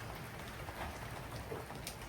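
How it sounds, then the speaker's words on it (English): Heavy rain pours steadily during a thunderstorm onto a moored sailboat, a dense even hiss of drops heard close and alone. "I'll continue watching YouTube videos as the rain continues to pour."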